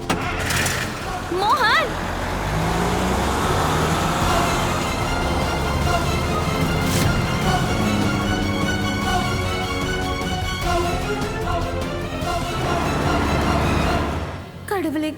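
A car engine starting and the vehicle pulling away, a steady engine rumble continuing under urgent emotional voices calling out throughout.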